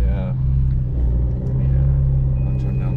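A 1JZ-swapped Lexus IS300 street car with a sequential gearbox runs steadily, a deep continuous engine rumble heard from close by, loud and unbroken, with faint voices underneath.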